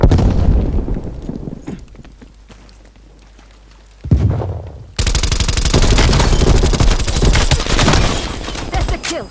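Gunfire and a grenade blast in the video game Call of Duty Cold War: scattered shots, then a sudden heavy boom, then sustained loud rapid automatic fire close by, with no speech.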